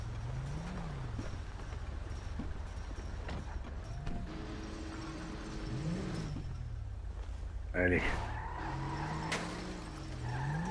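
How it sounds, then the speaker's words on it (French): A boat or vehicle engine runs steadily throughout, a low continuous hum with rising and falling tones and a brief louder surge near the end, while people talk over it. "Juste le bruit du moteur, regardez."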